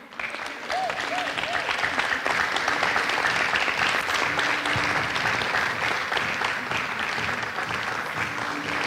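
Steady applause with cheering fills a conference hall as a student is called forward at a readers' conference, the clapping dense, loud and continuous throughout.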